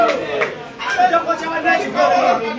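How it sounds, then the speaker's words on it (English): Fans chatter and cheer around a snooker table during a high-stakes 21-pot money match, a loose mass of overlapping voices swelling in waves and holding steady through the moment. "And his fans are cheering that shot as if he has spotted black."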